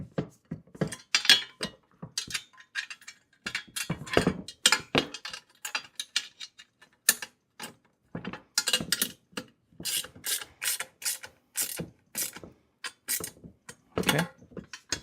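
Close ratcheting and metal-on-metal clicks while bolts are tightened on a garden dump cart, coming in irregular bursts of rapid clicks and scraping with brief pauses between.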